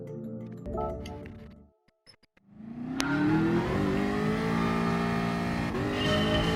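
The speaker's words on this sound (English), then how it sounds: "We are using the Jaguar F-Type, which is a GR3 car here" Jaguar F-Type GR3 race car in Gran Turismo Sport, engine idling then revving hard and climbing through the rev range, loud and close, a brief pause before the throttle opens, with no talk.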